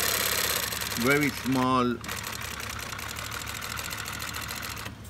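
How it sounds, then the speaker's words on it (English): A Juki LH-3528A industrial sewing machine sews with heavy-duty T105 thread, a fast steady mechanical whirring rattle that starts up right after a brief spoken phrase and runs evenly for several seconds, close and moderately loud. "I'm gonna start sewing"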